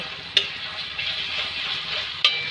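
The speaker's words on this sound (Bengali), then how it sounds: "পেঁয়াজের সাথে ভাজে আমরা একসাথে করে আমরা নেড়ে চেড়ে ভেজে নেব।" Garlic paste and onions stirred and frying in a pan over medium heat, a steady close sizzle with two sharp scrape clicks of the spoon against the pan.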